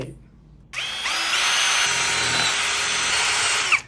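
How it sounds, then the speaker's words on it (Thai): An electric drill starts after a brief quiet moment and bores a hole with a loud, sustained whine, close up, making mounting holes for a wall fixture. "เสร็จแล้วก็ใช้สว่านเจาะรูเพื่อไว้ไปยึดผนังให้เรียบร้อย"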